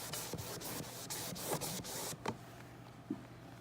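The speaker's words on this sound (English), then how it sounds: "I'm applying medium pressure as I rub back and forth" Steady back-and-forth rubbing to remove acrylic stencil paint from finished wood, a dry scraping swish repeated in even strokes under medium pressure, close up, then a few lighter passes and quiet.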